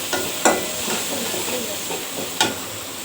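Tomatoes and spices such as turmeric, chili powder, cumin and coriander powder are stirred and sautéed in a hot pan, with a steady sizzling hiss broken by a few sharper scraping stirs.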